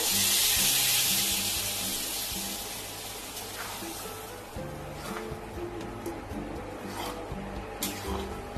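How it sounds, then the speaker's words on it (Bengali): Hot tadka tempering poured into dal for an egg tadka, with a loud broadband sizzle that bursts at the start and slowly dies down into a softer crackling hiss, with a few faint clinks over low background hum. "তরকাটা দিয়ে দিচ্ছি ডালের মধ্যে"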